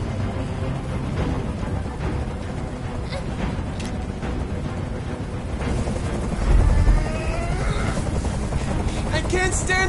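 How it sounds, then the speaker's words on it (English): Helicopter hovering overhead in a hostage standoff scene from the video game Detroit Become Human, a steady rotor rumble that carries on under tense dialogue, swelling briefly louder midway through. "Tell that helicopter to get out of here!"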